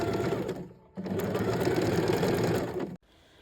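A sewing machine stitches an ethnic vest in two bursts, a fast rhythmic mechanical chatter close by, a brief pause near the start and an abrupt stop at the end.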